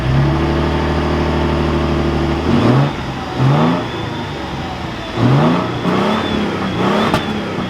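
A 2024 Toyota Tundra 1794 Limited Edition engine idles steadily, then revs up in several short blips that rise and fall, heard close and fairly loud with no talking.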